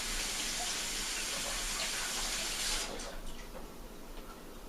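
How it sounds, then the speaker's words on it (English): Running tap water rinsing an item at a kitchen sink, a steady close hiss of flowing water that shifts and thins near the end as the item is moved under the stream. "Let me rinse this out real quick."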